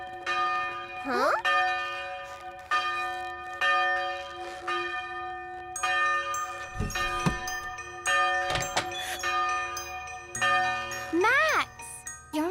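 A ringing bell in a cartoon gives repeated resonant clangs with long harmonic tails, close and fairly loud. Between the strokes come a few bumps and clatters, and a short high gliding vocal sound is heard.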